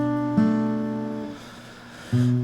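Acoustic guitar chords for a song, a sustained strummed chord ringing out, fading, then a fresh chord struck near the end, played alone and close.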